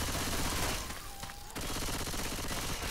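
Continuous rapid gunfire from a video game shootout, loud and dense, with a brief dip in the middle before the barrage resumes at full intensity.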